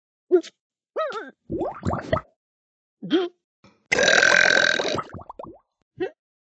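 Several loud, close burps after eating bubbles come in short bursts, one long drawn-out belch in the middle, separated by silence.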